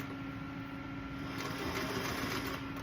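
A sewing machine runs a back stitch and then forward stitches on a small strap, giving a steady close motor whir with a slight rise in pace partway through. There is no talk.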